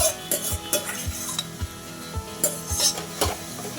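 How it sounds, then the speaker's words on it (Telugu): Gongura leaves are stirred into a dry fish curry in a pan, with repeated scraping strokes of a spoon against the metal over a steady sizzle, close and clear. "బాగా అది కూడా మిక్స్ అయ్యేటట్టు కలుపుకోవాలి."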